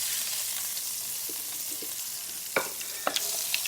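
Spices with turmeric, asafoetida and salt sautéed in oil for tomato rasam, a soft steady sizzle with a few sharp scraping stirs of a spoon near the end, close and alone.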